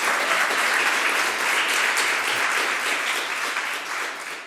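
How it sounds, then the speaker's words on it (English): An audience at an anniversary event applauds steadily and loudly for about four seconds, a dense clapping crowd close by that tapers off slightly toward the end. "please let's give him a big round of applause."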